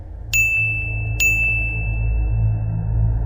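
Two bright notification dings from a smart home alert, the first near the start and the second about a second later, each ringing out with a clear sustained tone over a low, steady background hum.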